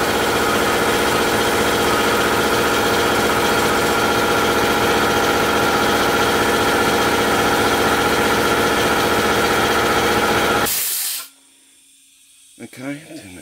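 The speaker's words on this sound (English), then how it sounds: "just wait for that compressor to fill itself back up" An air compressor runs to refill its tank, a loud, steady mechanical drone with a hissing edge for about eleven seconds, then cuts off abruptly, leaving near-silence broken by a few faint clicks and rustles.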